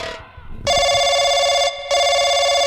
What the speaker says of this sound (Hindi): ले भाई घंटी जाती है